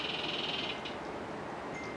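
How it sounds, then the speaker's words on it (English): A high, thin bird call trills briefly at the start, then a faint chirp, distant against a soft outdoor background hum. "I'm not sure what that bird is. What noise I hear?"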